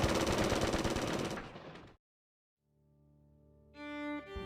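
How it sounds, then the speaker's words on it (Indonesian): A battle sound effect for the 1945 battle of Ambarawa: about two seconds of dense, loud gunfire and explosion noise cuts to silence, then sustained tonal music rises. "Desingan peluru meriuhkan suasana, ditambah lemparan granat yang bertubi-tubi"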